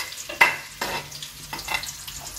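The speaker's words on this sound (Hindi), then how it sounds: "प्याज मिक्स कर दिया तो प्याज नु हल्का फ्राई कर दिया" Onions sizzle in hot oil as a utensil stirs them, giving a few sharp scraping clatters over a soft, steady frying hiss, close up.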